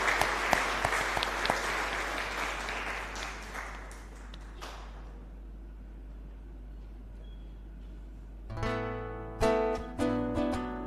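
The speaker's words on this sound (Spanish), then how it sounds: "Y un fuerte aplauso por los 60 años de Cacupemí." Congregation applause in a parish church marking a 60th anniversary, a broad clapping wash that fades out over about four seconds, followed by quiet and then organ or keyboard chords entering near the end.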